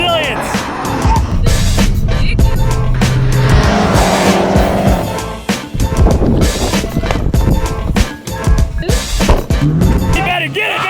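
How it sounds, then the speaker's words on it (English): A car doing a burnout at a Hoonigan pit-stop challenge, with engine roaring and tires squealing loudly in bursts, while people shout and talk over it. "First burnout of the day"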